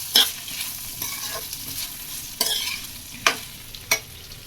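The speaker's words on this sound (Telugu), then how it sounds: "రైస్ని బాగా ఫ్రై చేయాలి" Rice mixed with homemade biryani masala powder fries and sizzles in a pan, a crackling hiss broken by several sharp scraping stirs at irregular intervals, close and fairly loud with no voices.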